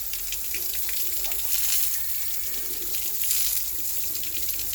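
A heated plastic part of a broken cobweb-cleaning brush is dipped into water, giving a steady rushing hiss of water that continues without a break.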